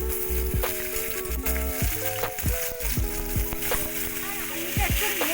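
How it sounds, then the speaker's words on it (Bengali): Thin-cut potatoes and drumstick pieces rubbed with salt and turmeric sizzle steadily in hot oil, with the scrape and clatter of stirring through the frying and a voice speaking above it. "আলুটা একটু নেড়ে চেড়ে নিয়ে নুন হলুদ মাখানো সজনা ডাঁটা দিয়ে দিলাম"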